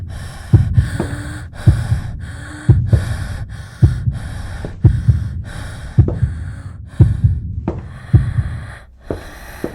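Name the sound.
deep breathing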